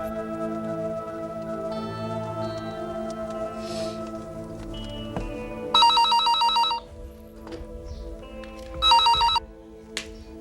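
A telephone in a classic television drama rings in two loud, bright electronic bursts over a background music bed, with a short pause between them.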